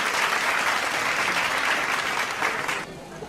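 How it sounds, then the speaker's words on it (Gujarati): Attendees at a community temple committee ceremony honouring a donor with a shawl break into hearty applause, a dense burst of clapping that holds steady and then stops abruptly near the end. "એ બદલ જોરદાર તાળીઓ થઈ જાય"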